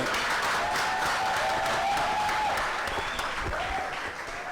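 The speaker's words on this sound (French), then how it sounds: "si vous avez aimé, acclamez davantage pour les artistes" Sustained audience applause and cheering at an election-center launch event in Kinshasa, steady and loud throughout, with a faint whistle-like tone riding over the clapping.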